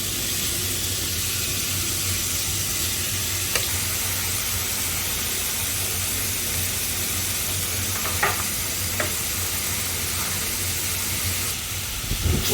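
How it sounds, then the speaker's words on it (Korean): Pork sizzles in a pan while being stir-fried for a spicy leek and pork dish, giving a steady, even hiss of frying fat with a few faint utensil clicks and no talking. "고기가 다 익어서 바로 집어 먹을 수 있을 때까지 고기를 익혀주셔야 돼요."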